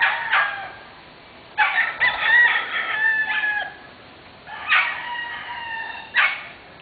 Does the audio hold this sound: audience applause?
no